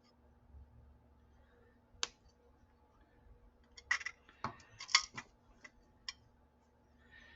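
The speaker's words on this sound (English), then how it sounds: "Okay, cut off your excess." Scissors snip off the excess wire while a bead necklace is being finished, giving several sharp, close clicks spaced a second or so apart over a quiet room hum.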